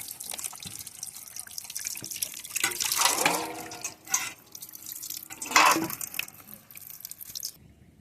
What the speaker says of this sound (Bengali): কচুটা এখন ধুয়ে নেব।